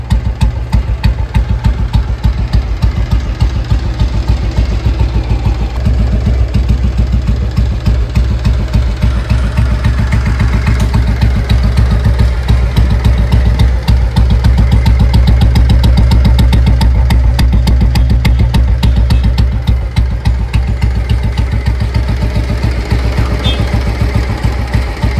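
Royal Enfield Bullet 350 motorcycle engine idling at slow speed, a loud, steady, close thumping beat with heavy vibration, running throughout without talk.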